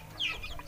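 A brief cluck from a chicken penned in an intensive rearing setup, a short single call over a low background hum.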